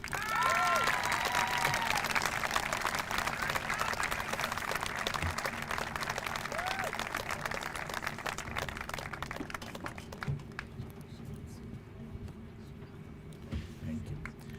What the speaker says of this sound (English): A round of applause for all of our recipients.